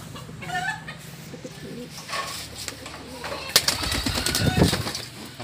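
A captured bird, a raptor's catch held in the hand before release, flutters and scuffles close up, with a person speaking and rustling handling noises rising toward the end.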